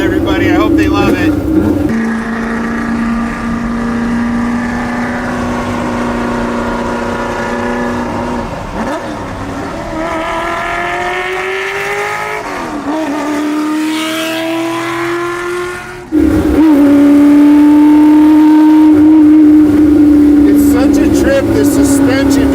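A Shelby GT350's powerful V8 engine roars and drones loudly, revving up and down through shifts while driving through canyons, then surges louder near the end; talking can be heard over it.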